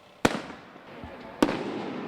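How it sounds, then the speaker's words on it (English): Two sharp firecracker bangs about a second apart at a street religious procession in Nonantum, each ringing out briefly over a low background murmur. "Bells and firecrackers went off,"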